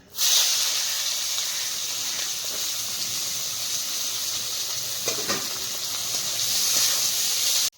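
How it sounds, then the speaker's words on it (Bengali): Onions frying in hot oil over a fire, a loud continuous hissing sizzle with a brief stir or clatter near the middle. "পেঁয়াজগুলো ভেজে নেব"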